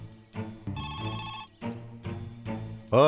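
A telephone rings in a steady repeating trill between stretches of voices, with a louder burst of sound cutting in at the end.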